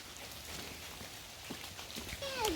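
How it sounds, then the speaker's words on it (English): Rain comes down outdoors as a faint, steady patter with scattered drop impacts, and a rising whistle-like tone near the end. "Rain is coming down, isn't it?"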